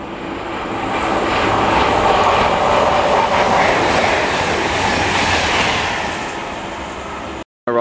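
A Virgin Trains Voyager diesel unit passes through Bletchley station, a loud rushing roar that swells, holds and fades over several seconds before cutting out abruptly.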